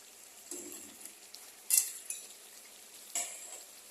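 Labra vegetable curry being stirred in a pan: a faint soft sizzle underneath with scattered scrapes and a couple of sharper metallic clinks of a utensil against the pan, close by, no talk.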